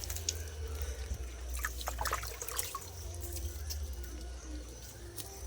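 Water poured onto a guava tree in a home garden, a steady close splash and trickle running under low background noise.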